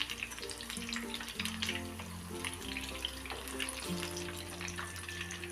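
Chicken lollipops frying on a low flame: a steady, close, even sizzle and crackle of oil throughout, with background music and no talk.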